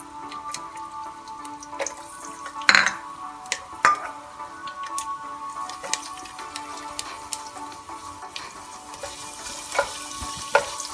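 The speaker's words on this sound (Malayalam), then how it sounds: "ചൂടായ എണ്ണയിലേക്ക് വെളുത്തുള്ളി അരിഞ്ഞതും ഇഞ്ചിയും ഇട്ട് കൊടുക്കാം." Chopped garlic and ginger fry in hot oil with a soft steady sizzle, with occasional clicks and taps of stirring in the pan and no talking.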